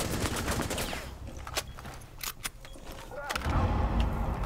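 Gunfire in the video game Rainbow Six Siege, a few sharp loud shots and bursts amid game noise, with people talking over it.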